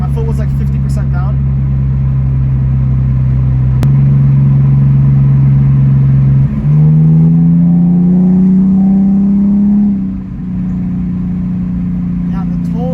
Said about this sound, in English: I've never heard an E46 sound like this.